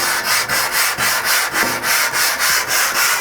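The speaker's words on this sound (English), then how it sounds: "Just spread that oil around, cover the whole thing." Oil is rubbed across a rusty Blackstone cast iron griddle with a close, loud back-and-forth scrubbing, about three strokes per second in a steady rhythm, with no voices.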